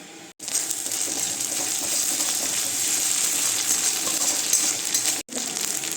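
Continuous sizzling of ground ginger and cumin frying in hot oil, with light stirring scrapes against the pan, briefly cutting out near the start and end.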